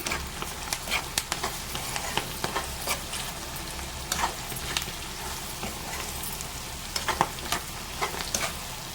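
Spices and turmeric frying in oil for pulihora tamarind rice, a constant sizzle broken by repeated sharp scraping and stirring clicks of a spoon against the pan, close and moderately loud.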